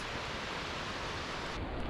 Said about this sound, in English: See all the waterfalls.